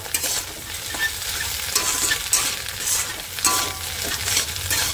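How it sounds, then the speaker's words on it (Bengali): Egg frying in a pan while a spatula stirs and scrapes through it for homemade chowmein: a loud, continuous sizzle broken by repeated scraping strokes, with no one speaking. "দেখতে পাচ্ছ ডিমটা ভাজা হয়ে গেছে।"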